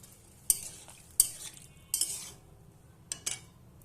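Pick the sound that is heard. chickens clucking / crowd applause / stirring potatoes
stirring potatoes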